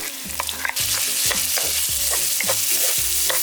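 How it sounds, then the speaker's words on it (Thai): Garlic, ginger and coriander root stir-frying in hot oil in a pan for Thai rice-cooker chicken rice, a steady loud sizzle broken by repeated rhythmic scrapes of a spatula, with no talking. "เริ่มจากน้ำกระเทียมขิงแก่ และรากผักชี ผัดกับน้ำมันให้เหลืองหอม"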